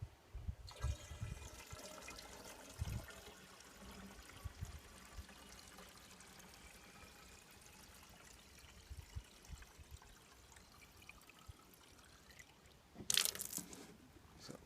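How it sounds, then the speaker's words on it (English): Water pours steadily from a container into an exhaust blow-out kit, a soft continuous trickling and gurgling fill heard close but quiet, ending with a brief louder splash and clatter near the finish. "Now we're going to turn it round and fill it with water from this end."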